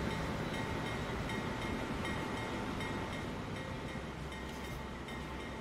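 A train in the Transport Fever 2 video game rumbles steadily along the tracks with a continuous clatter and faint rhythmic clicks.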